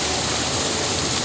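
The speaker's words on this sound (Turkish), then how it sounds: "müzik eşliğinde adeta dans eden gösteri havuzlarının altından geçen Başkan Gül, suyun azizliğine uğradı" Water pours steadily from the jets of a show fountain pool in a public square, a dense, close rushing splash with no pauses or voices.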